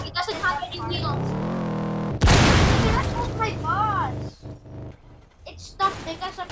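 A sudden, loud explosion in a video game erupts as a broad roaring blast that rumbles for about two seconds before dying away, with game sounds and voices before and after.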